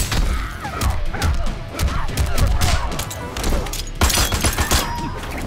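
Gunfire in the Mortal Kombat X fighting game, a rapid volley of loud shots with thuds and mechanical clatter, close and busy, with a voice briefly mixed in.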